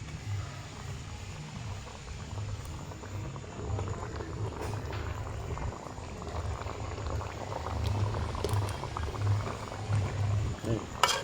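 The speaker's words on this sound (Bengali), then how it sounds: "ঝোলে জাল এসে গেছে" Fish curry broth bubbling in a pot for doi katla, a steady close simmering burble with popping bubbles running throughout, fairly quiet and unbroken.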